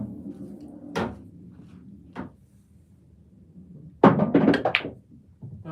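English pool balls clack together in a sharp burst of several quick knocks, preceded by two softer isolated taps of the cue on the ball, in a quiet room with a low background hum.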